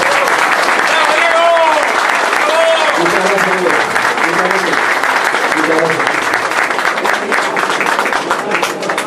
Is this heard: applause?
yes